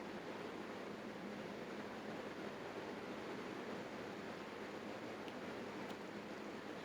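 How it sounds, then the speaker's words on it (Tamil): Onions and ginger-garlic paste sauté in a pan for mutton murthaba, giving a steady, faint, even sizzle that holds without a break from start to finish. "வெங்காயத்தில் கொஞ்சமாக இஞ்சி பூண்டு விழுது சேர்த்து இஞ்சி பூண்டோட பச்சை வாசனை போகிற வரைக்கும்"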